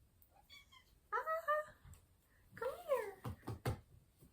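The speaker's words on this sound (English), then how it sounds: "What's up, little kitty cat?" A pet cat meowing up close, several clear drawn-out meows in two bursts, with a person speaking softly in between.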